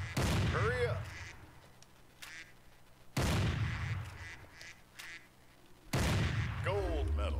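Gunshots ring out in the hunting video game Cabela's Big Game Hunter 2010: three loud, sharp blasts spaced a few seconds apart, each followed by a fading echo, with duck calls mixed in.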